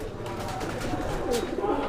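Black Saharanpuri pigeons give low, muffled coos under a busy, noisy background, with a steady murmur throughout and no clear voices.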